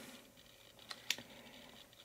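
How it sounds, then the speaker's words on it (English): Laptop keyboard arrow keys pressed while moving through an ASUS laptop BIOS setup menu: two or three faint, sharp clicks close together, over a quiet background. "And then I move right with the arrow keys."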